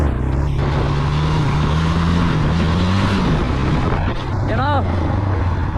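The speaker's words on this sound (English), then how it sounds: "the RPMs are going high as fuck real quick" A motorcycle engine revs high in first gear during a wheelie demonstration, a steady loud drone that rises and wavers, with a person talking over it and wind buffeting the microphone.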